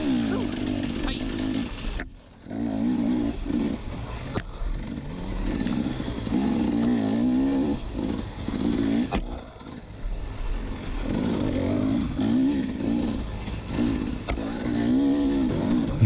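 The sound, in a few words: dirt bike engine rev bombing behind the rider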